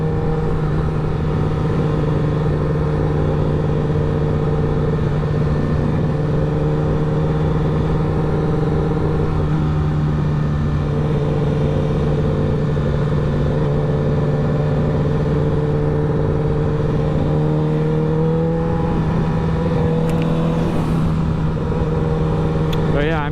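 Yamaha MT-09 motorcycle engine humming steadily while cruising on a relaxed ride, a loud continuous drone with wind rush throughout, and a rider talking intermittently over it.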